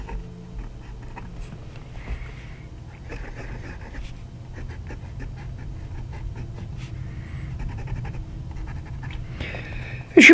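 A Hongdian D5 fountain pen with a fine nib writes on paper, giving close, soft scratchy strokes with slight feedback in irregular bursts over a low steady background hum.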